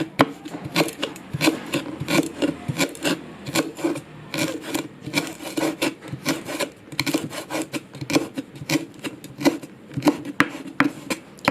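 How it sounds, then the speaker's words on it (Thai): A knife finely shreds rolled kaffir lime leaves on a cutting board, quick crisp taps in an irregular stream, close by and fairly quiet. "หั่นฝอยๆค่ะ"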